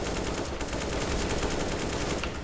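Automatic rifle spray in the video game CS:GO on the Inferno map: a dense, unbroken rattle of rapid close gunshots filling the whole stretch at a steady loud level.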